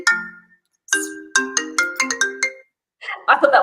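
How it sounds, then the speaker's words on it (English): A phone ringtone chimes in a quick melodic run of bright tones, loud and close, briefly pausing before a short burst of rustling noise. "I thought that was going to be my phone ringing."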